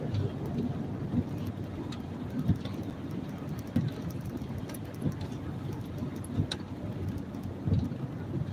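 Steady rain patters outside a car, a dense soft hiss of falling drops with occasional heavier taps and low rumbles, fairly close and even throughout.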